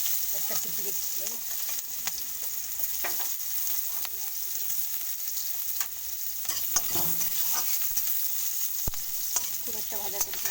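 Green chilli and onion sizzle steadily in hot oil in a home kitchen, a constant close frying hiss with scattered crackles and stirring clinks throughout.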